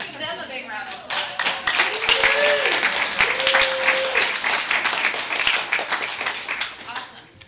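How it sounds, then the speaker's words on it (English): A theatresports crowd claps and cheers for an improv team, applause swelling quickly and staying loud before tapering off, with a host talking over the start and whoops rising above the clapping. "Let's give them a big round of applause."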